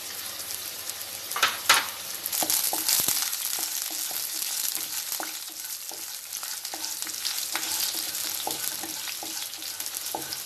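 Cinnamon, cloves, cardamom and black pepper sizzle in ghee for a village-style Tamil mutton curry, a steady close hiss throughout with occasional stirring scrapes and small pops, no voices.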